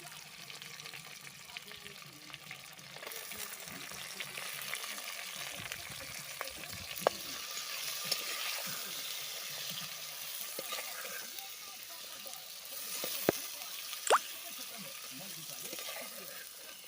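Vegetables fry in oil in a pan for a country tilapia fish curry, a low steady sizzle with occasional sharp clinks and stirring sounds, with voices in the background.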